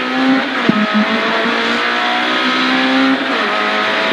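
Rally car at full throttle on a special stage of the 2022 GSMC Mini Stages Rally, a loud, sustained engine roar close by with a brief knock early on and a shift in pitch near the end.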